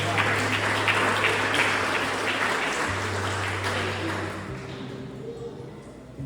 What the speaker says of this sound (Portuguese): aplaude o Senhor aí se você concorda com essa mensagem